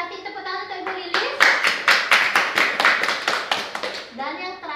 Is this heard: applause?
yes